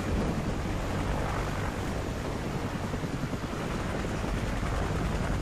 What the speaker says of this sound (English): Chopper's incoming! Get down now.